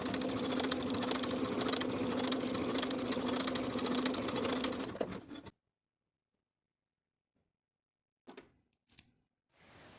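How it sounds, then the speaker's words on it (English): A sewing machine stitches a bodice dart with a fast, steady mechanical whirr for about five seconds, then stops abruptly. Silence follows, with a few brief handling sounds near the end. "Sew the dart from the bottom to the point, leaving thread tails at the point so you can tie them in knots"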